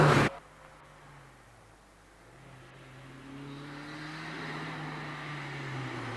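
A Mazda MX-5 races up the Prescott hillclimb course, heard faint and distant: its engine note rises and strengthens as it accelerates away over a quiet outdoor background.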